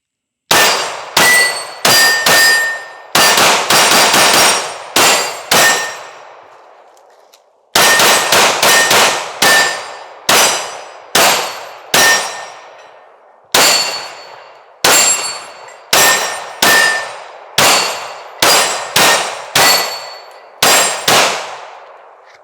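A Smith & Wesson compact pistol fires a long string of shots at steel targets, each report followed by a sharp ringing clang. The shots come in quick irregular bursts with brief pauses, loud and close, with no talk.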